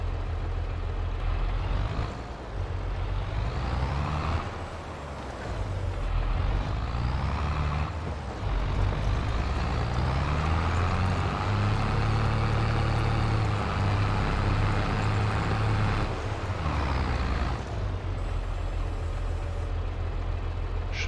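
A heavy truck passes with a deep engine rumble that swells, holds and fades, with brief hissing bursts like air brakes near the start and end.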